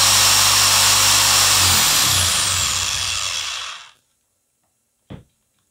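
A water pump motor driven as a generator whines loudly and steadily, then spins down and cuts to silence, followed by one brief click.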